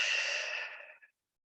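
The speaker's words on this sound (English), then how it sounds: "Deep inhale in. And a clearing exhale out." One deep, airy cleansing exhale at the close of a vinyasa yoga practice, loud and close at first, then thinning out and trailing off in about a second with no talking.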